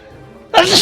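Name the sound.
sneeze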